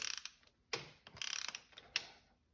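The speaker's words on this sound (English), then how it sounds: "So I got my torque wrench here set up to 15 foot-pounds of torque" A series of quick mechanical ratcheting clicks in short bursts from a torque wrench set to 15 foot-pounds, close and fairly faint, with a few louder single clicks between them.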